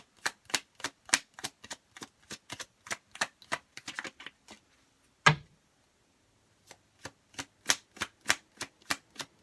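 Tarot cards are drawn and flicked from a deck in a quick run of crisp, close taps and snaps, broken by a sharper thump and a short pause before the rapid card sounds resume.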